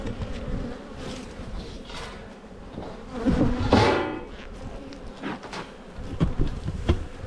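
Honeybees buzz steadily around a pink hive in an Australian apiary, a dense close insect drone that swells and thickens briefly near the middle before settling back.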